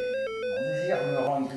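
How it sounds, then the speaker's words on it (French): A telephone rings with a steady electronic tone, a short repeating pattern at the start that blurs under overlapping talk as a voice speaks over it. "Coupez cette sonnerie"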